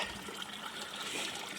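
Water pours steadily into a garden pond, a soft continuous splashing trickle heard faintly from a short distance, with no talk over it.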